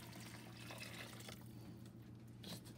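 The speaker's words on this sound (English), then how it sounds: "And then we're going to come over with water and go up to the fill line." Tap water pours steadily into a Tupperware pressure cooker up to the fill line, a continuous close rushing splash with no talking.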